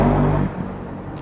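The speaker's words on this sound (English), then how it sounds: "now I'm riding my RS with the stock filter" A Bajaj Pulsar 200 RS motorcycle engine with its stock air filter runs loud and close for about half a second, then drops away abruptly to a quieter residual rumble.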